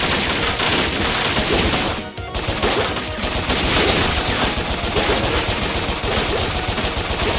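Continuous rapid gunfire from the red gun in the video game Bot Vice, loud and dense throughout with a brief dip midway, no talking over it.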